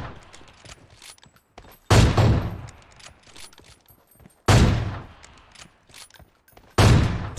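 Three loud, sharp sniper rifle shots from an AWM in a battle-royale shooter game, spaced a few seconds apart, each followed by a decaying echo and the clack of the bolt cycling between shots.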